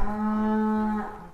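A black-and-white cow at a farm exhibition gives one long, close, resonant moo lasting about a second, then falls quiet.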